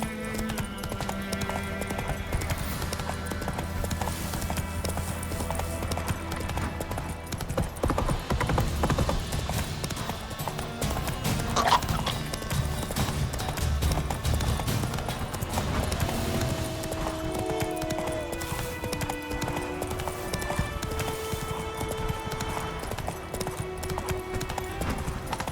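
Roach, a horse in The Witcher 3, gallops with a steady clip-clop of hooves under a continuous bed of game music and ambience, carrying through the whole stretch at moderate loudness.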